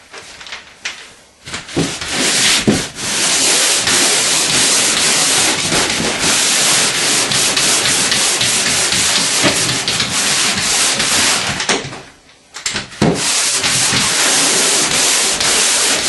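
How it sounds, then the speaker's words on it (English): Sandpaper rasps over drywall compound spread across an old paneled wall in a loud, continuous scratching that runs nearly unbroken and close, dropping out briefly twice. "You can use 100 grit sandpaper or 80 grit for sanding down the thicker coats."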